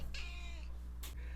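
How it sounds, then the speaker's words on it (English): A domestic cat meows twice indoors, a drawn-out tonal meow followed by a shorter sharp one, fairly close against a low steady background hum. "after my cat disturbed me there"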